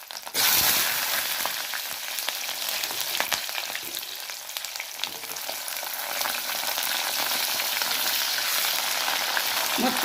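Drumstick (moringa) pieces drop into hot oil and fry for a tomato curry. A loud burst of sizzling starts at once, then settles into a continuous close crackle with scattered pops and occasional stirring for about ten seconds.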